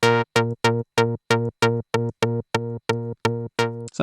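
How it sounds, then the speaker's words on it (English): An analog-style synthesizer plays short stabs with a brief sustain, about a dozen crisp, bright, evenly spaced hits that start and stop abruptly. "If you want to do a stab, it's kind of like making a bass, so like a short sustain."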